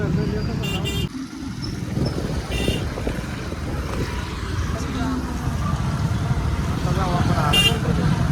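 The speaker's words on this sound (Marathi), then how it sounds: "नुसती ट्रॅफिक." Dense road traffic in a crowd heading to Alandi for a pilgrimage procession, heard from a moving vehicle as a constant engine and road rumble with a few short horn toots, while people talk.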